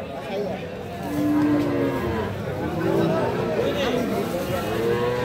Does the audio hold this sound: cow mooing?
yes